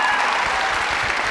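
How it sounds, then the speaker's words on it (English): An audience at a university speech and Q&A applauds in a dense, steady burst of clapping that stays loud for the whole moment. "It shouldn't even receive claps"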